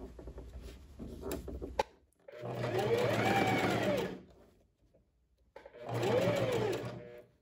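Sewing machine stitching the cuff seam of a puffed long sleeve, running in two sustained bursts with a pause between, the motor whine rising and falling in pitch, fairly close and alone.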